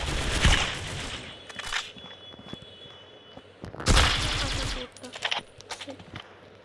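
Bursts of M4 rifle fire in the Critical Ops mobile shooter crackle in short rapid volleys, two loud clusters separated by quieter scattered shots, with a voice talking faintly in between.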